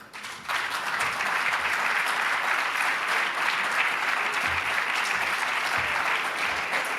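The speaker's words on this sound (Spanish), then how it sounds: "Así que demos un aplauso a Alberto Núñez Feijóo" An audience bursts into applause for Alberto Núñez Feijóo at the La Toja Vínculo Atlántico forum, sustained even clapping from a sizable crowd after a brief quiet start.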